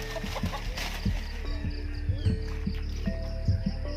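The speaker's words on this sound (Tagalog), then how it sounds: "Nagsilabasan na yung mga manok." Chickens that have just escaped their netting cluck outdoors in short, repeated calls over a constant low background hum.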